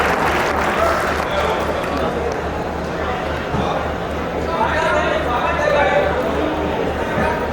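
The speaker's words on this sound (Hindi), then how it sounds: "मैं मणिका को आमंत्रित कर रहा हूँ कि जोरदार तालियों के साथ" Applause from an audience at a poetry recital, a dense steady patter of claps continuing for several seconds with a crowd murmur beneath and a faint rhythmic low thumping.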